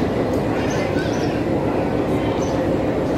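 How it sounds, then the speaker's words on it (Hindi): A train rumbles at a railway station in Srinagar, Kashmir, with a steady, loud, dense rolling roar that fills the whole clip, and faint voices sit in the background. "तो वैसे ये रेलवे स्टेशन है, यहाँ बाकी ट्रेनें भी चलती हैं"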